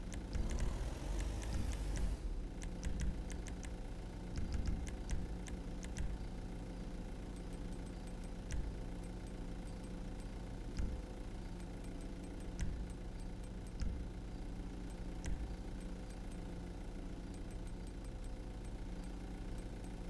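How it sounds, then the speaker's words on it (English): Tank engine in GTA 5 Online: a steady, deep, rumbling drone throughout, with a louder surge at the start, close and continuous with no talking. "Driving out with a tank"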